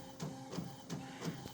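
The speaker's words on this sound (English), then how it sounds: "So we're gonna let this print out." A sublimation printer runs a print job, with four evenly spaced mechanical passes of whirring and clunking roughly every third of a second, close and moderately loud with no voices.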